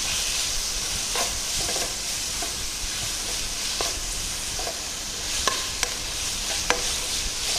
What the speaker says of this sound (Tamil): வெங்காயம் வந்து ரொம்ப நல்லா செவக்க விடணும்